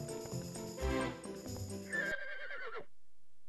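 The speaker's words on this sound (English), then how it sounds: "Rescue the three horses in the quickest time." A horse neighs in a Barbie horse rescue video game. The whinny is loud and close and rises and falls over a busy synthesized music track, which cuts out near the end.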